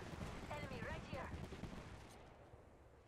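Video-game gunfire rattles in quick bursts for a couple of seconds, fairly quiet and fading toward the end, with a voice mixed in over the shots.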